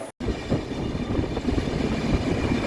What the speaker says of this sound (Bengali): তামিলনাড়ু ছেড়ে কর্ণাটকা বর্ডারে প্রবেশ করছে ট্রেনটা